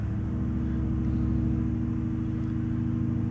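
Engine retarder braking on a modded Peterbilt 389 big rig in American Truck Simulator: a steady, loud, deep droning rumble held throughout with no talking.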